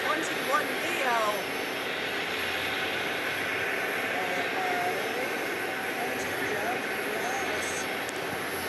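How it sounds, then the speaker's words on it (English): Steady distant jet roar from a United Airlines Airbus A321neo arriving from Denver at Phoenix Sky Harbor airport, a continuous moderate rumble with faint chirping birds and someone talking over it. "that is a United A321neo"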